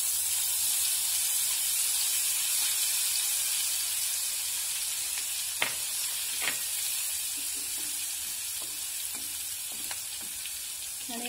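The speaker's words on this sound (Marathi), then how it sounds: "तेवढ्या तापलेल्या तेलामध्ये आपला जो लसूण आहे तो चांगला छान तळला जातो" Crushed garlic, mustard seeds and asafoetida sizzling in hot oil for a green chilli pickle tempering, giving a continuous bright hiss with scattered pops and crackles, close and fairly loud.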